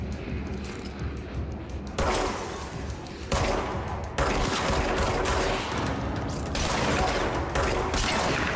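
Rapid bursts of gunfire from the video game Control, loud and continuous, with sharp volleys starting around two seconds in and repeating in dense clusters with no talking over them.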